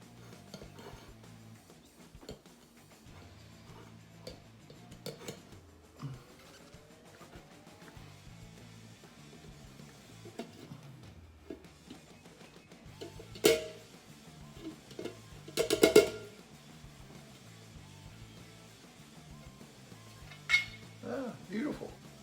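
Bundt cake pan with a 7-up Bundt cake being handled and flipped onto an upside-down plate, quiet kitchen clatter with a few sharp metallic clinks and knocks, close, under soft background hum.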